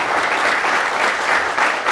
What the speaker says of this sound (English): Ladies and gentlemen, let's give a big round of applause for Chazak.